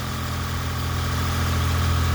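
Engine of a 1991 Geo Metro fitted with an XFI engine and transmission idling after a coolant top-off, a steady low rumbling hum with even pulsing, close and continuous, no voices.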